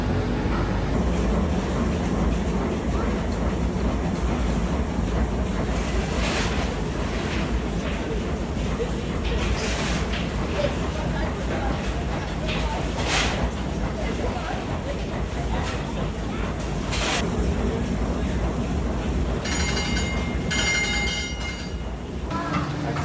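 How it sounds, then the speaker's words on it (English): Diesel engine of a lake ferry on a crossing to Walter Peak in New Zealand, a steady loud rumble throughout while the vessel waits to depart, with brief mechanical clatter and faint background voices. "Engine."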